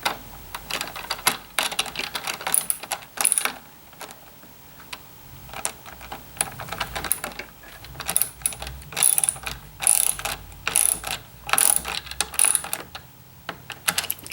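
A ratchet wrench tightens a bolt on a Little Weaver loom, rapid clicking bursts repeating in uneven runs, close and fairly quiet with no talk.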